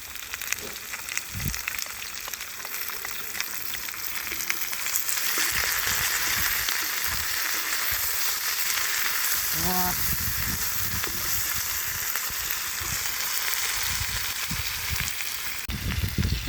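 Crimean onions fry in a pan, a loud steady sizzle that swells as they go in and keeps crackling throughout, with a brief voice sound partway through.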